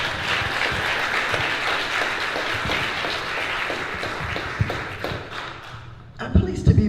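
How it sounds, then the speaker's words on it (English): Applause from an audience gathered in a church, steady, dense clapping that continues throughout before thinning out near the end, with some thumps and voices breaking through at the close. "give yourselves a big round of applause"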